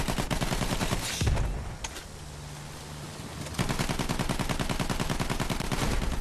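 Rapid machine-gun fire in Battlefield 1, loud sustained bursts of gunshots with a brief lull in the middle before the firing resumes, close and continuous.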